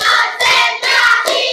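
A fifth-grade religious education class claps in unison, making four sharp group claps at an even beat. The children's voices ring out over the clapping.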